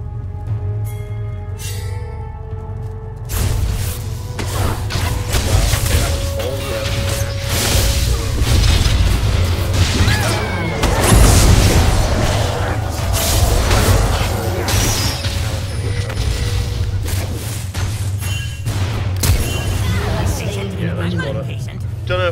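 Ziggs lobs bombs in League of Legends, with booming bursts and whooshes rolling under dense game noise, while someone talks throughout.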